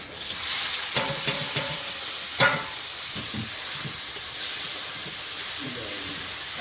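Prawns frying in hot oil in a home kitchen, a constant loud sizzling hiss with a few spatula scrapes and taps breaking through.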